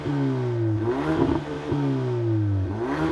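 Ford Focus ST with automatic gearbox revving while stationary in sport mode, the engine note rising and falling through a few quick blips with a crackle between revs, close and loud.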